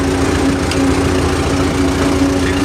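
A car's air conditioning runs after being switched on. It makes a steady, loud mechanical hum with a faint tonal whine and no voices.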